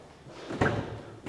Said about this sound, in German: Wir haben Türen links und rechts natürlich. Machst du mal die andere Seite auf.